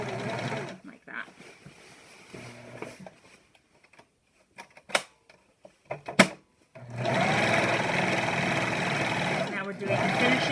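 A serger stitching the finishing edge of an isolation gown runs in a loud, steady whirring stretch, first briefly at the start and then continuously for the last few seconds, with quieter handling noises and talk in between.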